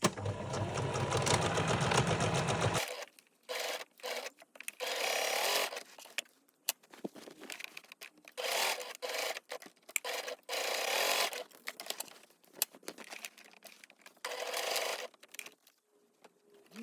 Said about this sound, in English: I'm now going to go to the sewing machine and stitch across those